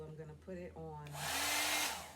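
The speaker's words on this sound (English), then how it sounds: "it is my first time trying this brand new dryer on damp hair" Someone speaks briefly, then a brand-new ionic hair dryer, a Dyson dupe, switches on and blows a loud, steady rush of air for drying damp hair.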